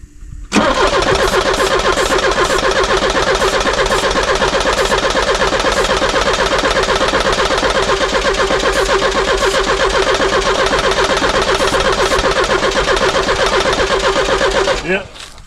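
A Porsche 944 engine starts and then runs at a steady, loud idle on its own for about fourteen seconds before cutting off, a close, even mechanical drone with no throttle blips.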